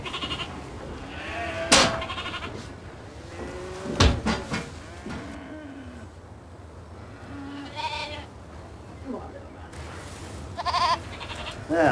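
Young British Saanen goat kids on a farm bleat several times, loud and close, with a few shorter calls and quieter gaps between them.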